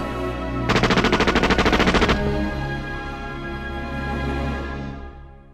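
A rapid burst of automatic gunfire from a comedy stage skit, about a second and a half of fast repeated shots, loud and close, over a steady musical backdrop.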